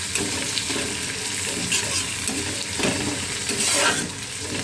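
Onions fry in hot oil toward crisp beresta, giving a dense, continuous sizzle close up, with occasional stirring scrapes and light utensil contact and no talk.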